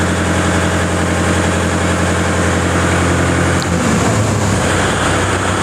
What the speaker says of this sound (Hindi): और अभी यह 1400 RPM पर ट्रैक्टर है